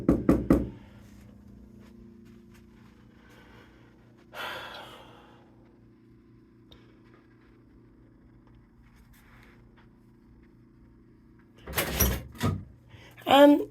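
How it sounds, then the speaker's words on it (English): Sharp knocks sound on a police station door, a quick cluster at the start and another burst near the end, with a low steady hum and a breath or sigh in the quiet stretch between. "Oh, maybe I'll knock on the door."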